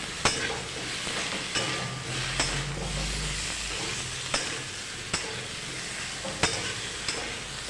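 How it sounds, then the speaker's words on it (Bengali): Spice mix being stirred into eggplant and potato in a frying pan, a steady sizzle under occasional sharp taps of the spoon against the pan. "মশলাটা ভালোভাবে এর সাথে বেগুন আলুর সাথে মিশিয়ে নেব আমরা।"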